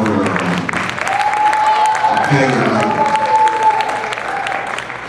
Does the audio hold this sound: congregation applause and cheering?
yes